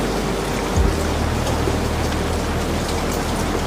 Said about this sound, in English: the rain continues its steady percussion against the dense canopy of cedar and fir